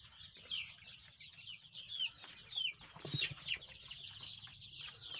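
Young Aseel chicks in a crowded pen give repeated high, chirpy peeps and soft clucks, scattered and overlapping throughout, fairly close, with light shuffling and low rustling beneath.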